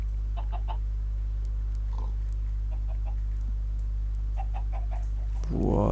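Chickens in a factory-building video game give a few faint, scattered clucks over a loud, constant low machine hum, with no one talking.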